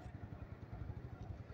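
A motorcycle engine idles steadily nearby with a low, even pulsing rumble, as riders head out after a group ride amid a moving crowd.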